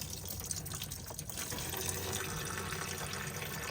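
Coolant from a car radiator pours into a bucket with a steady splashing gush, fairly faint and continuous, and it grows a little fuller partway through.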